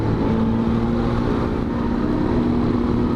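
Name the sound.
small single-cylinder motorcycle engine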